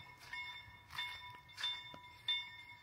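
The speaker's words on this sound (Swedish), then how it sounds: "Varje gång jag sätter på kameran så kommer tåget." A train passes at a distance, faint and rumbling, with steady ringing tones that swell and fade in several waves.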